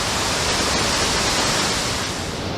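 Talofofo Falls waterfall roaring steadily, a dense, unbroken wash of falling water close by and loud throughout, with no other sounds standing out.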